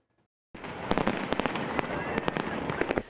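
Fourth of July fireworks going off in a rapid series of sharp cracks and pops over a dense crackling roar, loud and continuous after a brief silent start.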